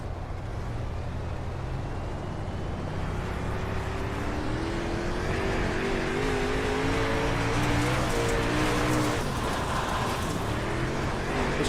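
A race car engine drones continuously on a tacky dirt track in a racing video game, with rising and falling engine tones layered over a steady roar.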